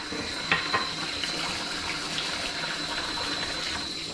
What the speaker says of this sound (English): Scrubbed off, rinsed. Get this nice and rinsed.